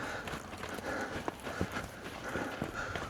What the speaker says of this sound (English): He's got a heck of a fast trot. There he goes. Nice little lope.